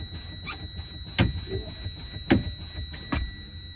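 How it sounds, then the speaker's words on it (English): A truck's air brake valves pop out while the brakes are fanned, sharp hissing bursts of air repeating at irregular intervals over a quiet cab background. "Both valves popped out at 20 psi."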